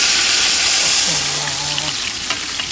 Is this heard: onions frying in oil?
yes